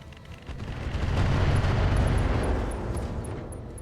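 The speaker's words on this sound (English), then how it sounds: "Torso destruction, ammo explosion." A mech's ammunition cooks off in RogueTech, a deep booming explosion that swells to a broad rumbling roar over a few seconds, then slowly fades, with crackling debris on top.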